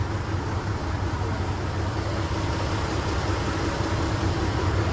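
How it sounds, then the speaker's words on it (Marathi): Ferry boat engine running inside the engine room at Panaji, Goa, a steady loud low drone that continues throughout without pause or talk. "हा मागचा भाग आहे बघा फेरी बोटचा इंजिनचा इथे सगळं इंजिन वगैरे आहे या साईडला"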